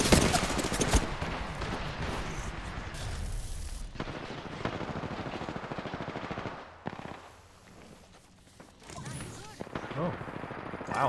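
Sentinel sniper rifle shots in the video game Apex Legends, with sharp cracks and booms scattered through a dense, busy mix of battle noise that dips briefly near the end.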